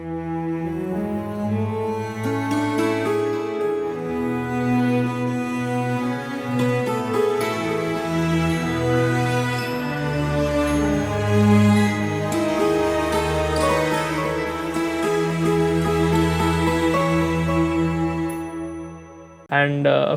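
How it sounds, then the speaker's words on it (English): Strings and double bass from an Ableton Live track with an Indian-flavoured tone play sustained, layered chords over a deep bowed bass line, loud and continuous for about twenty seconds before a brief dip and a final swell. "The strings and the double bass sound like this."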